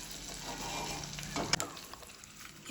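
Hot tempering poured into a brinjal and yogurt chutney crackles and sizzles steadily, with a brief sharper burst of spattering midway before the fizz settles back down.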